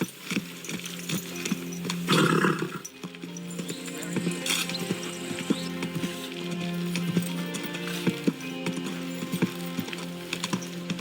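Hollow horse hoof clip-clops in Kingdom Come: Deliverance II tap along at an irregular walking pace over a low, steady tonal hum, with a brief louder rustling burst early on.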